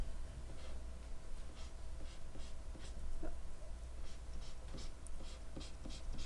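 A pen sketching a parabola graph on paper gives a steady, soft scratching of strokes, close and continuous under faint background hiss, with no talking.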